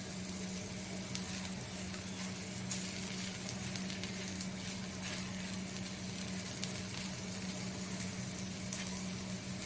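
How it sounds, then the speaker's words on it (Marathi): Methi thepla, a fenugreek flatbread, shallow fries in a pan with oil or butter, giving a constant soft sizzle and crackle with faint patter throughout and no talk. "आता मी ते शॅलो फ्राय करते।"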